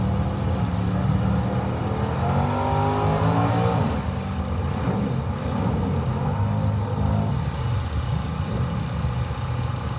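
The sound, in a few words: drag racing cars accelerating, Camaro and Chevy II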